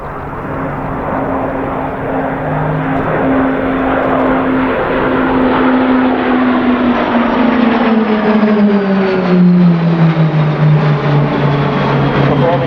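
A synchronised pair of propeller aircraft at an air show passes overhead, the engine drone swelling loud and steady, its pitch sliding downward as they move away.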